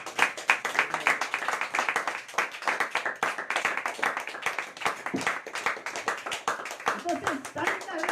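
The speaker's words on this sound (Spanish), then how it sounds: "Denle aplausos al Señor." A church congregation claps during a sermon, loud close handclaps in a brisk, somewhat uneven rhythm that keeps going throughout, with voices talking and calling out under and over the clapping.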